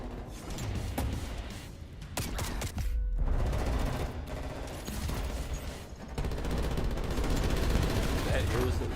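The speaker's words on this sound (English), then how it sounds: "That is the Diamond SMG." Rapid bursts of Diamond-camo SMG fire from Call of Duty: Vanguard, loud and dense, layered with further shots and explosive crashes in a chaotic multiplayer firefight with a short lull midway.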